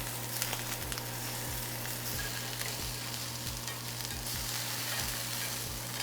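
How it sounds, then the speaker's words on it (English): Tofu fries in a cast iron pan with a steady, close sizzle, while a regular series of soft clicks and scrapes comes from tongs turning the pieces over; no one speaks. "These are ready to flip, so I'm just gonna go and turn all of these over. I'm gonna use some tongs for this"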